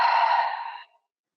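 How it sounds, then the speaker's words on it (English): A single long, breathy exhale during gentle yoga, close and soft, fading out smoothly into silence after under a second. "Deep breath out."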